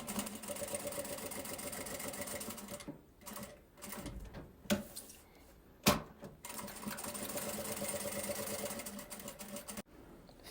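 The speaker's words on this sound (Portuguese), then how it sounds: "vai passar uma costurinha vindo e voltando pra reforçar aqui" Sewing machine running in close bursts as it stitches back and forth to reinforce fabric on a tea-holder wallet, a steady mechanical whir broken by short pauses and a couple of sharp clicks, with no talking.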